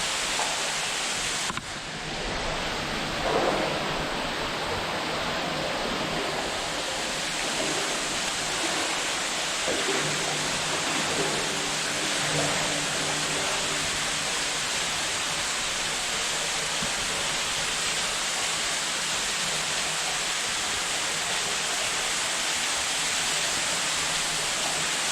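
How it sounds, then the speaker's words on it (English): River water rushes over rocks along a forest stream, a loud, broad and unbroken roar that holds steady throughout with no talk over it. "So you know there's gonna be all kinds of water coming through here."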